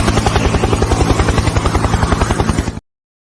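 A helicopter sound effect plays loud and close, with a fast rhythmic rotor chop and a dense whine over a steady thumping beat, running continuously before cutting off abruptly.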